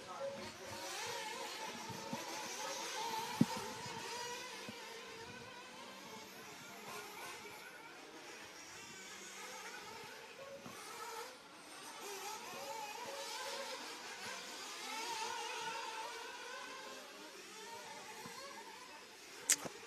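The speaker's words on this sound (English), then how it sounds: "He's the all-white Kyosho coming down on the straightaway." Kyosho radio-controlled race cars run down the straightaway at a racing event, a faint, continuous high-pitched buzz of small motors rising and falling as they pass, under crowd noise.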